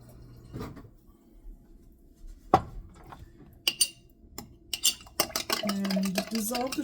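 A spoon stirs a soy sauce and water mixture to dissolve sugar for pork dumplings. Sparse clinks against the bowl build into busier scraping and clattering near the end, close and fairly loud, with no voices.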